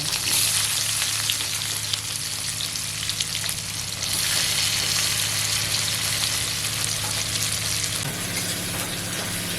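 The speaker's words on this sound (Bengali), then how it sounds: "পেঁয়াজটাকে ভালো করে ভেজে নেব।" Chopped onion frying in the oil left from frying river fish, with cumin added for a spicy fish curry, giving a steady, loud, close sizzle and occasional stirring throughout.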